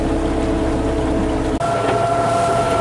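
1963 Thompson 18-foot runabout boat engine cruising at about 1,600 RPM, a steady close droning hum with wind and water noise.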